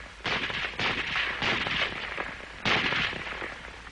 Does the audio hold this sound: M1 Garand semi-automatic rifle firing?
yes